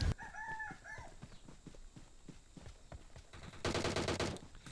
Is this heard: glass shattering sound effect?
no